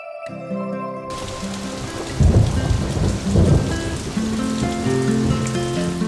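Heavy rain pours steadily with rolls of thunder rumbling low and loud in bursts, starting abruptly after a brief tonal opening and continuing alone with no voices.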